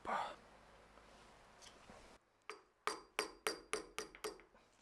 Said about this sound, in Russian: Первым делом на пиноле нужно выбить два конусных стифта.